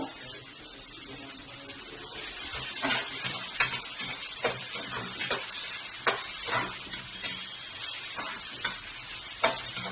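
Chopped tomato and onion sizzle steadily in a hot pan while being stirred, with soft scraping strokes and light clinks of utensils at an irregular pace, close and moderately quiet.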